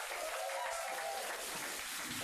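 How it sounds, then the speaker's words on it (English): An audience at a groundbreaking ceremony for a Wawa store in Washington, D.C. applauds with dense, steady clapping throughout, with faint voices underneath. "if you'll give them a round of applause as they come forward"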